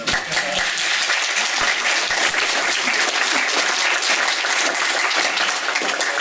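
Loud sustained applause from a room full of people at Gen Con 2014, dense steady clapping throughout.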